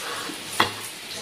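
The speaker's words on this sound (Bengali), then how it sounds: "আর এই যে এখন পটল ভাজছি" Pointed gourd (potol) frying in a pan in a home kitchen, a steady soft sizzle with one brief louder stir or clatter midway, no talking.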